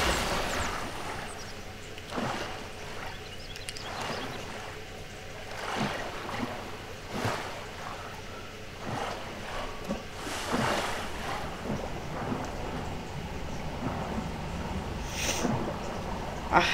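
Swimming through cave water in the survival video game The Forest, a steady wash of splashing and rushing water with repeated soft stroke surges every second or so, moderately loud and without talk.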